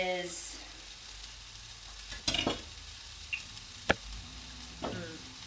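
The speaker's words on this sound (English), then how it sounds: "Alright, stirring up the banana." A utensil stirs banana and onions frying in a pan, giving a soft, continuous sizzle broken by several sharp scrapes and knocks against the pan.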